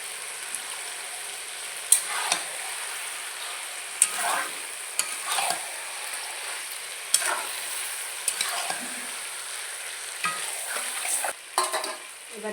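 Mutton fries in a pan with spices, salt and turmeric while a spoon stirs it, giving a steady close sizzle broken by repeated scraping strokes at an irregular rhythm, with no talking.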